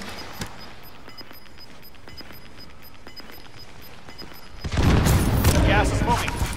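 Gunfire crackles in a Call of Duty Modern Warfare match: scattered distant shots at first, then a loud, dense burst of firing and explosions near the end.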